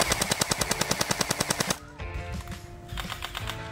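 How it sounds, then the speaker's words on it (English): Gel ball blaster firing in rapid full-auto bursts, a fast even stream of sharp close snaps for nearly two seconds, followed by a quieter whirring mechanical sound. "So it shoots real fast, up to 400 shots a second or minute."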